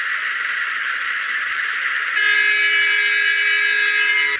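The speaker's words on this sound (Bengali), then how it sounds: "চলো চলো চলো, আমরা হর্ন মারতে মারতে যাই বরং।" Bus horn in a bus driving video game, a sustained blaring tone that begins midway and holds steadily loud over a background engine drone.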